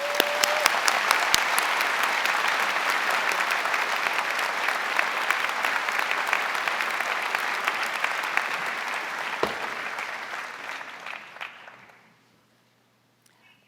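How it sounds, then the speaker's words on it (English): A large graduation audience at the 2023 Rackham Graduate Exercises breaks into long, even applause, full and steady for about eleven seconds before tapering off quickly into near silence. "Let's give her a round of applause."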